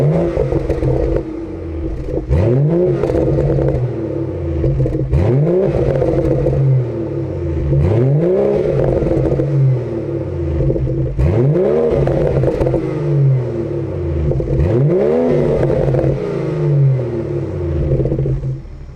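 BMW F30 340i with an AWE Touring catback exhaust and diamond black 4-inch tips, heard from outside the car, revs repeatedly in rising sweeps about every two and a half seconds, loud and close, a steady idle rumble between blips.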